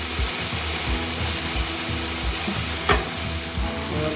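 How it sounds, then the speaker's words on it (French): Frozen shallots and a little garlic sweating in butter in a saucepan, a steady loud sizzle with scraping stirring strokes and one sharp clink near the end, close up and with no voices. "je mets des échalotes surgelées, un petit peu d'ail, et ça je vais le faire suer maintenant"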